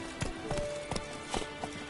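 Hooves of the horse Roach clip-clop in a quick galloping rhythm in The Witcher 3: Wild Hunt, several close, sharp thuds repeating steadily with no talking.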